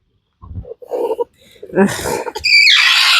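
Angry broody ducks give harsh raspy squeals and hissing screams up close, rising into a loud sustained shriek at the end, with a person speaking briefly among the calls.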